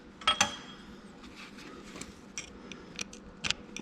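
Spiral snap ring being worked off a gear in an Oliver 1855 tractor transfer case, small metallic clicks and scrapes near the start and end over a quiet workshop background.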